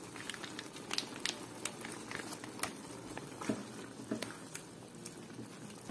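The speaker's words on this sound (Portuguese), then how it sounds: "tá fervendo já, ó, como vocês podem ver" Tomato sauce for shrimp simmers in a pot, giving faint, soft bubbling pops and light patter over a low steady murmur.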